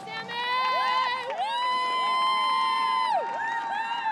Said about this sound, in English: a slew of local fans cheer on their hometown hero